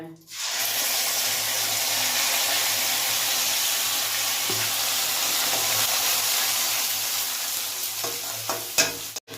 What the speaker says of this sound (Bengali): এবার ফোড়ন থেকে যখন সুন্দর একটা গন্ধ বেরোবে তখন এর মধ্যে দিয়ে দেব জিরে আদা আর কাঁচা লঙ্কার পেস্ট